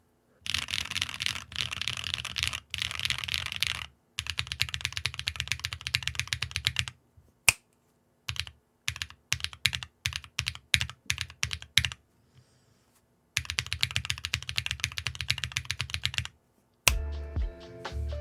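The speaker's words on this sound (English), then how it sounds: "after the lube, I'd say the switches sound slightly more refined on the return and very slightly less plasticky overall" Bursts of typing on lubed KTechs S2v2 Snow tactile keyboard switches, dense runs of crisp clacks broken by pauses and a few slower isolated keystrokes, close and clear with no talking.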